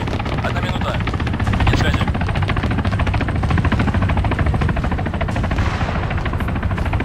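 Military helicopter in Arma 3, its loud, continuous rotor thump and engine drone filling the clip evenly throughout, with speech audible over it.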